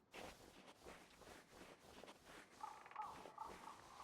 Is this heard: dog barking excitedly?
no